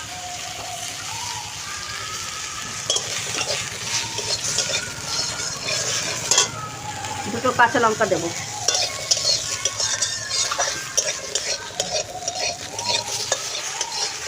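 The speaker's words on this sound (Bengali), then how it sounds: "টমাটো, কাজু, আদা এগুলো দিয়ে একটু নাড়াচাড়া করে নিলাম।" Tomato, cashew, ginger and chillies are stirred and fried in a pan for matar paneer, with a steady close sizzle and repeated scraping strokes of a spatula, and a voice speaks briefly partway through.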